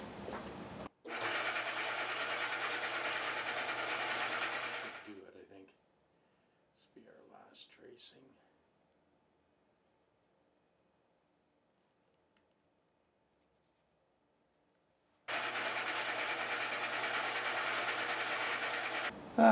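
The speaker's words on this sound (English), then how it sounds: "I'm cutting that radius on the edge of the radius disc sander." A radius disc sander grinds along its edge to cut a fret radius tracing for a Jazz Bass fret setup, a steady loud whirring that runs for several seconds, stops, and resumes after a pause with faint handling sounds between.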